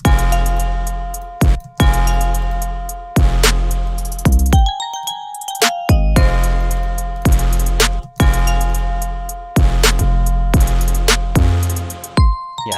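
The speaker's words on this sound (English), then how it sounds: "I want the choir to be a little bit background here" Choir sample in a holiday hybrid trap track, layered with bell-like melodic tones over heavy bass hits, playing loud and continuous in repeating phrases with a brief sparse break midway.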